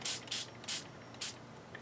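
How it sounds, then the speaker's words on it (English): A hand spray bottle mists water onto an F-14 scale model in four quick, close bursts with short gaps between them, plus a faint fifth puff at the end. "basically you just spray it down with water"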